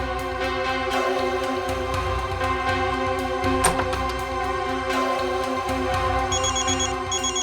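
A telephone rings steadily and loudly in an indoor office setting, its repeated electronic ring continuing throughout with no speech.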